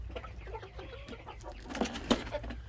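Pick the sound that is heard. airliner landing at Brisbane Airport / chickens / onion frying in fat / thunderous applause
chickens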